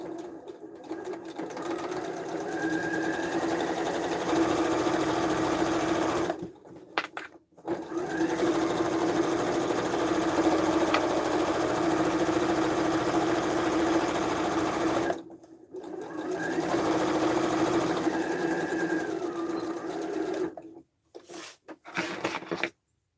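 Sewing machine stitching a tote bag seam with backstitching, running steadily in two long bursts with brief pauses between them and a short stop-start at the end, close and loud.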